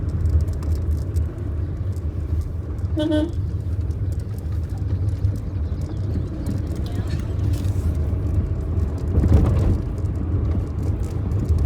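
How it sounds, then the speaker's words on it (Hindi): A manual car's engine hums at low, steady revs, about 1500 rpm in third gear at 35 km/h on a hill road, with road rumble throughout and a passing swell of noise near the end. "अभी चल रही गाड़ी 1500 आरपीएम के राउंड और 35 की स्पीड।"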